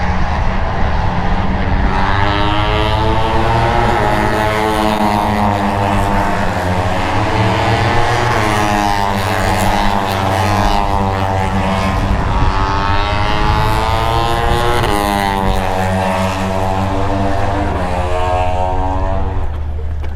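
A Honda 250 racing motorcycle, a light 84 kg machine making 48 bhp, screams past at high revs, its loud engine note rising and falling steadily for about twenty seconds.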